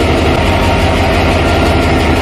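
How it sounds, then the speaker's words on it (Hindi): A railway diesel locomotive engine cranks its shaft with a loud, dense, steady mechanical rumble heard close up, continuous throughout with no pauses. "अब इसकी क्रैंकिंग का तुमको साउंड भी सुनना है"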